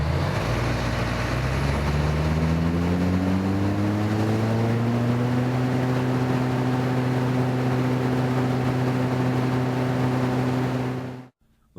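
A John Deere 470G excavator runs at high RPM with auto idle off as its cooling fan reverses, a loud steady engine drone whose pitch climbs over the first few seconds and then holds before cutting off abruptly at the end.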